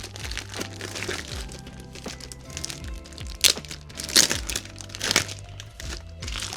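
Packaging from a Pokemon TCG box crinkles and crackles as it is opened, with a few sharper, louder crunches standing out over a steady bed of background music.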